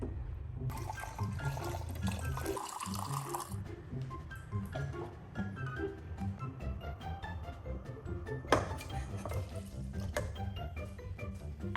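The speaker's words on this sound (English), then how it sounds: "Added just enough water and turned on the stove." Water poured into a cooking pot on a stove, giving a splashing, gurgling rush with a few clinks and a sharp knock partway through.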